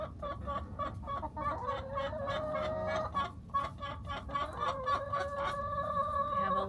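Chickens kept in a small urban backyard homestead cluck and chatter continuously, with several birds overlapping in close, busy calls.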